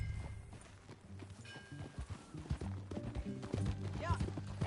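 Horse hooves clip-clopping at a walking pace in the Red Dead Redemption 2 game, a steady rhythmic patter under game voices and music.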